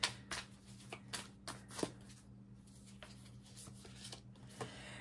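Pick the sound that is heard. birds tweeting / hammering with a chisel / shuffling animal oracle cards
shuffling animal oracle cards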